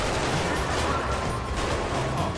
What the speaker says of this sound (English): They are shooting.